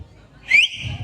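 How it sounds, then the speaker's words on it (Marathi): A single sharp, high whistle blast rises in pitch for about a second, loud against a low background murmur at a Kojagiri Purnima lavani celebration. "कुणी वाजवली लय जोरात"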